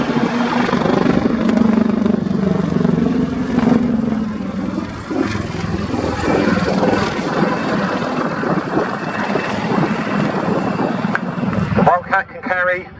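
A Wildcat helicopter flies at an RAF Cosford air display, its loud, steady rotor and turbine roar filling the whole stretch. A commentator talks over it, and the noise wavers near the end.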